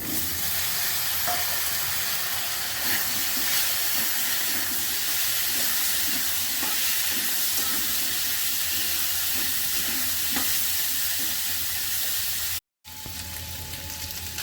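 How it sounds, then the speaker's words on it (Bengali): Gaati kochu (taro) frying with onions in a pan in a home kitchen gives a loud, continuous hissing sizzle that runs steadily throughout, broken only by a brief dropout near the end. "গাটি কচুগুলো পেঁয়াজের সঙ্গে ভেজে দেবো একটু"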